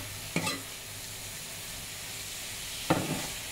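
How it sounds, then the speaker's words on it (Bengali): Spices frying in a pan for spicy greens give a quiet steady sizzle, broken by two brief scraping stirs of the spoon. "এখানে মশলাটা কষা নিচ্ছি"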